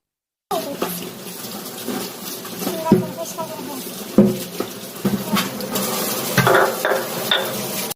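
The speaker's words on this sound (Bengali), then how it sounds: "আমার বাঙালি মা তার প্রিয় পাটাকে গোসল করাচ্ছে ভালোভাবে" A stone grinding slab (pata) washed under running water, a steady splashing flow broken by sharp knocks and scrubbing clatters close by.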